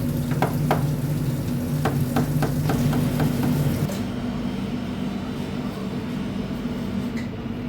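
A shark fish is chopped into pieces: a series of sharp knocks repeats at an uneven pace over a steady, loud background rumble for the first few seconds, and then only the rumble remains.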